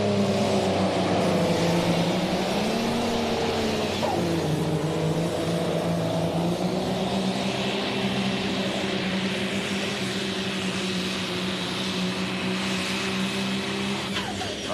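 A vintage needle-nose Peterbilt truck roars under heavy load at a night truck pull on a dragway, its loud engine drone rising and falling steadily and continuously, close and alone with no talk.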